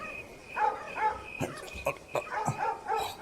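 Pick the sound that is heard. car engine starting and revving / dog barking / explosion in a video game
dog barking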